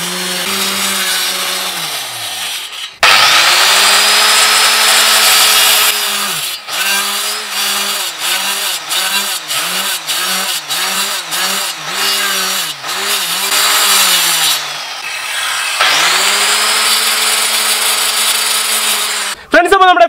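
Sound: power tool cutting a plywood piece

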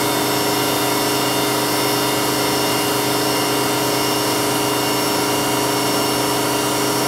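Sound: Tree Journeyman 425 knee mill spindle running at 6000 RPM

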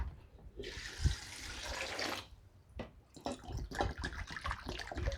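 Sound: pouring water into a pot with star gooseberries

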